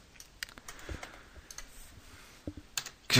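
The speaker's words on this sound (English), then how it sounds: "press U on a keyboard for seeing all the keyframed options you have" A few light, sparse clicks from a computer keyboard as keys are pressed, quiet and spaced apart over a faint background hiss, ending with a louder burst of sound.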